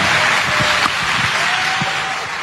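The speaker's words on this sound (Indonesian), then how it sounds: "Kita kasih tepuk tangan untuk Anies Baswedan." Audience applause at a university event for a presidential candidate, steady, loud clapping from a large crowd filling the hall, continuing throughout with a few faint voices underneath.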